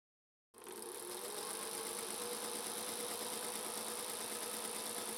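A Singer 221 Featherweight sewing machine starts up and runs steadily, a close, even mechanical whirr with fine rapid needle chatter continuing for several seconds without speech.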